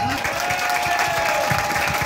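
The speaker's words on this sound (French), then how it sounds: "J'aimerais qu'on les applaudisse très fort." Loud, dense applause from an audience at a foundation's 40th anniversary event, steady and sustained throughout with a faint crowd murmur beneath.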